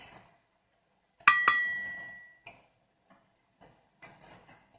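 A spoon clinks sharply twice against a pot while scum is skimmed from simmering sugar syrup, the ringing tones fading slowly, followed by a few softer taps and scrapes in a quiet kitchen.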